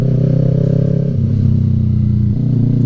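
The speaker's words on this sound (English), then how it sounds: "I love going through the gears" A vehicle engine revving loudly and close up while the driver shifts through the gears, a steady throbbing drone that drops in pitch at each shift, with no talking over it.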